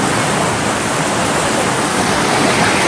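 Fast-flowing river water swollen by rain near Rishikesh, a loud, unbroken rushing roar filling the whole stretch with no pauses.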